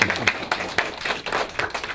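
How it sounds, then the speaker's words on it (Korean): A short burst of applause from a small group at a youth career policy forum, quick uneven hand claps at close range. "네, 박수 주세요"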